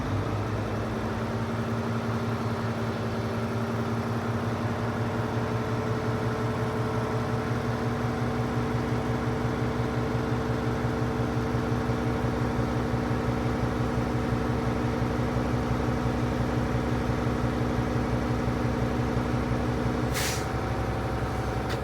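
A truck engine idles steadily and loudly while its air compressor builds air brake pressure, with a constant low rumble and tonal hum, ending with a short sharp hiss of air near the end.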